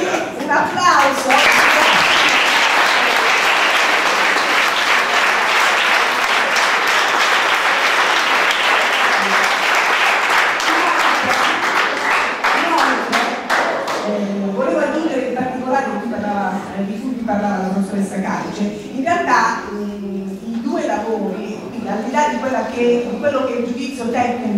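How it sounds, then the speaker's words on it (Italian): Applause at a school award ceremony in Italy, a dense, loud wash of clapping for about fourteen seconds that thins out and fades, after which a voice speaks over scattered claps. "Quindi un applauso."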